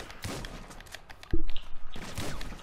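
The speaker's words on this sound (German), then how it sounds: "Ich hör schon Schüsse." Gunfire in the video game GTA V Online: a single sharp, loud report rings out mid-clip with a short rumbling tail, set against steady in-game ambience.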